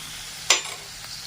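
Garlic cloves, some still in their skins, dropped into a hot pan give one sudden sharp sizzle burst that fades within a moment to a soft, steady hiss.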